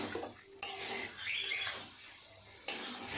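Metal spatula scraping and clinking in a pan while eggs and potatoes are stirred with spices for an egg curry, a few sharp scrapes over a soft sizzle, fairly quiet and close.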